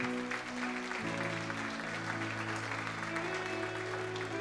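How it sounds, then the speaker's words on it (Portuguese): Congregation applause during a church service, continuous clapping over sustained organ or keyboard chords, steady and moderately distant throughout. "Pode aplaudir Jesus, Ele merece."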